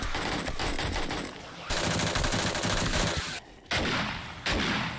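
Rapid AK rifle fire rattles in the game 7 Days To Die, dense bursts of automatic shots with a brief pause near the end before firing resumes.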